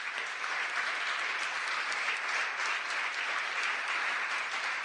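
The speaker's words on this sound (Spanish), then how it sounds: "Ríndele un aplauso al Señor" A church congregation claps steadily and continuously, a dense wash of applause that holds at an even level from start to finish.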